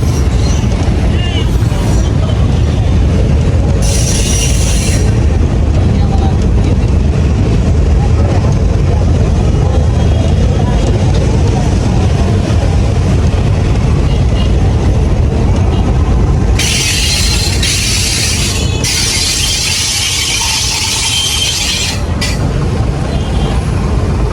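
A train in Bangladesh moves along the line during a shunting and coupling manoeuvre, a loud, continuous near rumble with bursts of hissing, while voices talk nearby.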